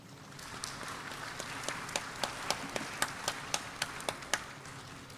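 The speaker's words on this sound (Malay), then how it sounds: "diminta untuk memberikan satu tepukan gemuruh kepada mereka" Sparse, distinct hand claps at a university convocation ceremony, a few people clapping at a moderate pace with individual sharp claps standing out, fairly quiet and somewhat distant over a low background murmur.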